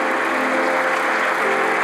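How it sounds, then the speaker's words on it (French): A church congregation applauds loudly in praise during a sermon, a steady, dense wash of clapping that fills the whole short moment with no break. "Dele un aplauso grande al Señor."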